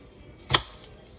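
A single crisp knife chop through an onion on a cutting board, one short sharp cut standing alone in a quiet kitchen.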